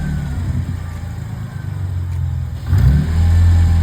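A Jeep engine, its throttle body just cleaned, runs loud and close at a steady idle, then swells in a firm rev partway through and holds at a higher, rougher pitch.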